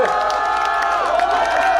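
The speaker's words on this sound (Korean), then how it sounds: "뜨거운 박수 한번 부탁드리겠습니다." A rally crowd cheers and claps, with shouts and whoops over a dense wash of noise, loud and close throughout the short burst.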